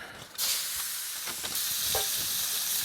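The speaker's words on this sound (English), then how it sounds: "Put them on the tin foil, get the steak cooking." Marinated steak on tin foil over a campsite fire, starting a loud continuous sizzle that holds steady close by, no talk.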